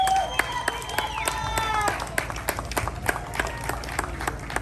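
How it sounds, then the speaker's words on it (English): Crowd clapping and cheering at a political rally in Iowa, scattered sharp claps that swell into steady applause, with a voice and whistle-like tones mixed in early on. "Give him a round of applause."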